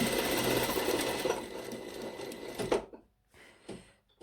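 A sewing machine runs steadily for under three seconds, stitching the seam of a blazer lining along a piping fold, then stops abruptly, leaving faint handling noises.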